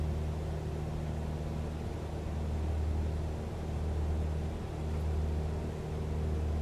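Steady propeller-engine drone of a Cessna 172 in Microsoft Flight Simulator, a constant low hum with harmonic bands holding level throughout, with no voices.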